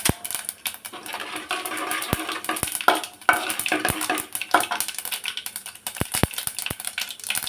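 Dal frying in a pan for appalam kootu, a steady hiss of sizzling oil with repeated spoon clicks and scrapes against the metal, close and fairly loud, no voices.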